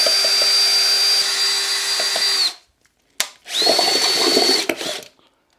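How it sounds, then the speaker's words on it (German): A cordless screwdriver spins a paint roller handle to stir paint in two bursts of high whirring at close range. Each run ramps up, holds, then cuts off, with a sharp click between them. "Den setzen wir uns einfach hier auf den Akkuschrauber drauf."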